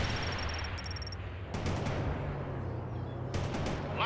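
Gunfire in the strategy video game World in Conflict: a steady roar of battle noise with bursts of rapid automatic shots, fairly distant and continuous, without speech.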